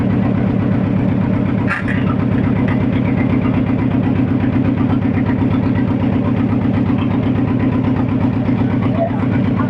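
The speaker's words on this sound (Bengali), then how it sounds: "যে কাকু বোট চালাচ্ছে কাকু সাবধানে নিয়ে যাও আমাদের তাহলে দেখতে পাচ্ছে বোট যাচ্ছে" A motor boat engine drones steadily and loudly on a river, a constant low throbbing hum with a brief knock near the start and a voice talking over it.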